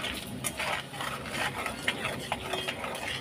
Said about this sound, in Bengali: ভালো করে নাড়াচাড়া করে নিলাম